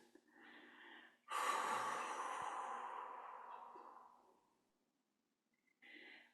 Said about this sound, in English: breathe in and feel free to make sound as you breathe out